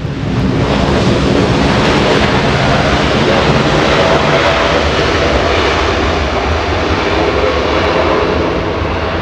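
An Air China Boeing Dreamliner landing at LAX after a flight from Beijing fills the air with a loud, continuous jet-engine roar and rushing wind-like noise that holds steady throughout, with no talking.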